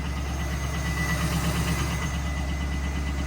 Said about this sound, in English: got a little bit of a tick in the engine, but once it warms up, it goes away